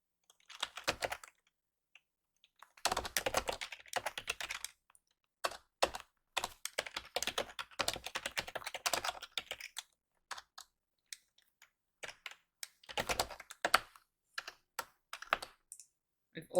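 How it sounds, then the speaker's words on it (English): Computer keyboard typing in bursts of rapid, irregular key clicks separated by short pauses, close and clear with no talking, while building a cottage in a life-simulation game. "I'm not somebody who can't look at the keyboard when they're typing."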